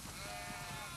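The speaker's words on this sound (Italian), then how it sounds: "Sono tantissime pecore." Sheep bleat in The Last of Us Part II, a brief wavering bleat over a dense, steady farm-animal background.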